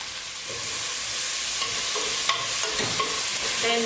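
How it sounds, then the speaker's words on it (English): Tomato paste browns in a pot for an oxtail stew, giving a continuous close sizzle with a few sharp scrapes and knocks from stirring. "So we will brown the tomato paste."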